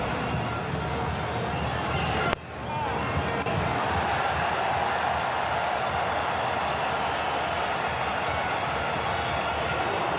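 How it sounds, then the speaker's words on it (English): A cricket match crowd applauding, a broad, steady roar of clapping and cheering that carries through the whole stretch after a brief dip, with no words spoken over it. "he joins him now in soaking up the applause of the crowd"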